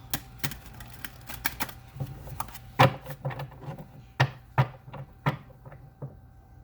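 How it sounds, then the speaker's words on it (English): Tarot cards being shuffled by hand, a run of crisp, irregular riffling clicks and soft slaps up close, with uneven gaps between bursts and no voices. "Okay, one more shuffle."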